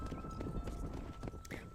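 Horse hooves clip-clopping in the Red Dead Redemption video game, a steady run of soft rhythmic thuds at moderate distance over a continuous ambient bed, with brief bright accents.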